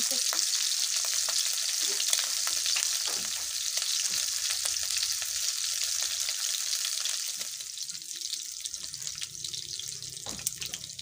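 Corned beef frying in a pan with a loud, dense, steady sizzle, broken up by frequent clicks and scrapes of stirring.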